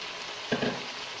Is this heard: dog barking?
no